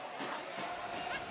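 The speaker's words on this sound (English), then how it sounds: "A little bit more life into this crowd here at Papa Murphy's Park after that goal" Soccer crowd at Papa Murphy's Park murmuring and cheering steadily after a Sacramento Republic FC goal against Swope Park Rangers, a broad continuous roar with no single standout shout.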